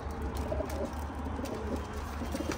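Zubayri pigeons on a rooftop coo softly in low, repeated calls over a steady background murmur, close by and without speech.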